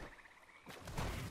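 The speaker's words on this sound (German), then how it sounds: "Frösche." Frogs croak in a video game, faint and distant. A short run of quick rhythmic croaks is followed by a louder, rougher rustling swell, with no one speaking.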